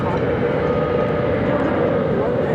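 Southwest Airlines Boeing 737-700 jet at Phoenix airport, a loud, steady engine roar that holds unbroken throughout with no break or fade.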